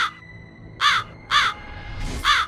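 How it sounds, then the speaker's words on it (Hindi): A crow perched at a window caws three times in loud, evenly spaced harsh calls, close by over a quiet background. "अब हर एक भोर और सांझ को कौवा झरोखे पर आ बैठता।"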